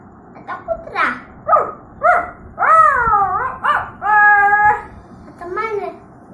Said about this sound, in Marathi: आता कुत्रा,